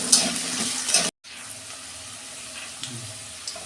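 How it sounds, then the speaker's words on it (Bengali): A cut potato frying in hot oil for a fish roe curry gives a steady, hissing sizzle, louder for the first second, then briefly cut off before resuming as a softer continuous crackle. "এই যে ভেজে নিচ্ছি আলুটাকে।"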